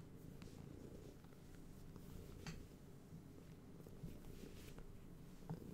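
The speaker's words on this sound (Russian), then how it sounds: "Специально поставил, чтобы она мурчала?" A cat purrs steadily and close, a low continuous rumble running under faint background sounds of a gaming stream, with occasional small clicks and taps.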